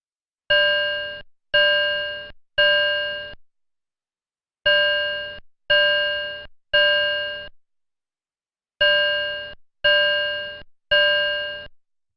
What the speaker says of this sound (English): This is the alarm sound for the Kainai and P.